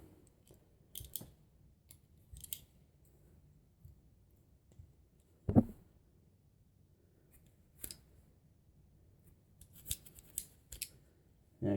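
A multi-tool snips pieces of cord while a fishing stringer is being made, giving one sharp, close cut that stands out against quiet background handling noise. Fainter clicks and snips come before it and after it.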